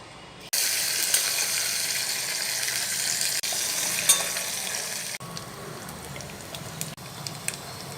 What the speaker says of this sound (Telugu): పప్పు తాలింపు పెట్టేసుకుందామండి.